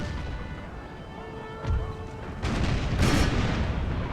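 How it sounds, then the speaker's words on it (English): Opening gunfire of the First Battle of Bull Run in a Civil War strategy video game: a few distant cracks and booms over low battlefield rumble, building into a louder volley near the end. "And there's the first shots."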